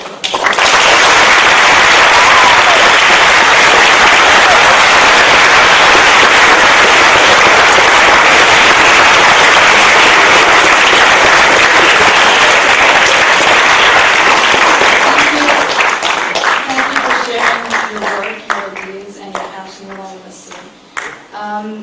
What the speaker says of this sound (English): we should give another round of applause for